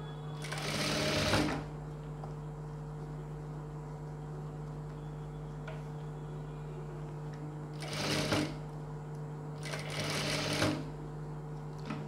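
A sewing machine stitching a boat-neck blouse runs in three short bursts: one near the start, then two close together near the end. Quiet pauses with a steady hum fall between the bursts.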